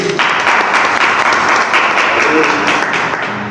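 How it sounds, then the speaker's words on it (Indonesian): Crowd at a gathering applauds a club chairman candidate, loud continuous clapping with voices mixed in underneath. "Tepuk tangan dulu"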